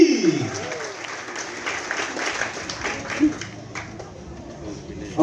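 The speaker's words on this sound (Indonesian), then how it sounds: "Mari kita berikan tepuk tangan untuk Kak Resli" An audience breaks into sustained, dense applause for Kak Resli at a live RRI Kupang session with UPG'45 Kupang on first-time voters ahead of the 2024 election, a steady wash of clapping with a voice over it.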